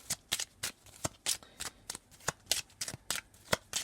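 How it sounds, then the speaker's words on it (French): Tarot cards being shuffled and cut by hand: a quick, regular run of crisp riffling bursts, about a dozen in under four seconds, close and fairly quiet. "Déjà une coupe et puis ensuite un tirage de 9 cartes."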